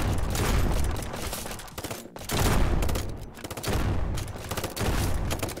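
Loud, dense bursts of assault rifle fire in a video game, coming in several sustained volleys separated by brief pauses, close and continuous.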